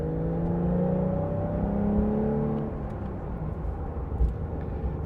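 A 2023 Porsche 911 Carrera T's flat-six engine climbs in pitch as it accelerates, a strong droning whir that holds for a couple of seconds before dropping back to a lower, rougher rumble.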